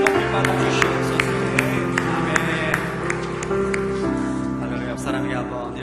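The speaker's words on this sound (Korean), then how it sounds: "우리 하나님께 영광과 감사의 박수 힘차게 드리겠습니다" Church congregation at a Saturday young adults' worship service claps in steady rhythm over sustained keyboard music, the crisp hand claps standing out clearly above the held chords.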